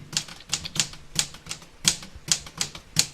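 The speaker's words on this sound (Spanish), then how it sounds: "escuchó muy claramente que alguien tecleó sobre la máquina de escribir" Typewriter keys struck one at a time in an uneven rhythm, about a dozen crisp clacks spaced across a few seconds, close and clear with no voices.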